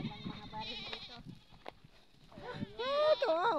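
A goat bleats loudly and close by, a wavering cry toward the end, following a person's speech and a few earlier calls.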